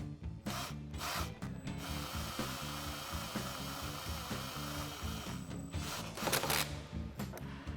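A hand ratchet tightens the large hose clamp on a heat shield and air intake tube of a 3.6L Jeep Wrangler JL cold air intake, giving a close, steady run of rapid clicks with brief pauses and repositioning.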